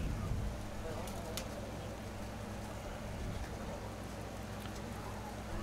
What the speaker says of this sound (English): Rain has set in here.